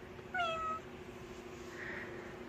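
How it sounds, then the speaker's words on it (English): A single short cat meow, close and clear, over a low steady room hum, followed by a faint rustle. "I brought a cat."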